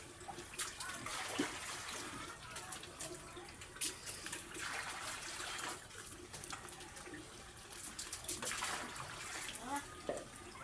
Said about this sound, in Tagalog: Lagyan na lang ng tubig mga kababoy.